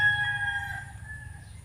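A rooster crows once, loud and fairly close, a single drawn-out call with nothing else around it.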